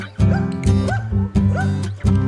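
A large Doberman barks four times in deep, booming woofs, close and loud, spaced about half a second apart.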